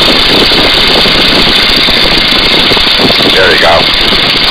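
A Boeing Stearman N2S-3 biplane's engine in flight, throttled back to 1300 RPM, giving a loud, steady close drone with heavy wind noise filling the cabin.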